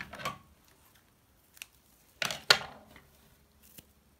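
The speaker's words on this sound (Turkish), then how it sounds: "İpi kesiyorum." Scissors snip through yarn after a crocheted chain, a few quiet, sharp clicks and cuts spaced apart in a near, still room.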